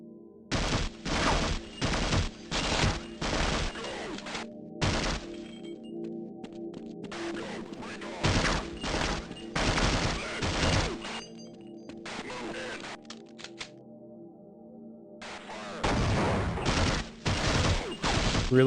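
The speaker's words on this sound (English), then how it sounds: "Okay, so now they're blowing each other up." Rapid bursts of gunfire and blasts on a Half-Life 1 map come in clustered volleys separated by short pauses, over a steady low background hum.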